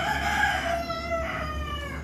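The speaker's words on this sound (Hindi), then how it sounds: "मुर्गा भी मांग रहा है" A rooster crows loudly and close by, one long drawn-out call, with a second fainter crow overlapping.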